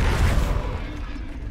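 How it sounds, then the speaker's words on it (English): In a Harry Potter video game, a staff slams into the ground with a heavy, booming impact that rolls out and fades over about a second, with faint voices underneath. "刚刚那个应该是棒子捶地上之后吧？"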